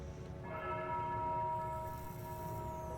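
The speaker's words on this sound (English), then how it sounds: "The tolling of the bell." Slow tolling bell in the haunted video game Foolish Mortals, a single deep metallic strike whose layered ringing tones swell and hang steadily for several seconds over a low rumbling ambient bed, with no voices.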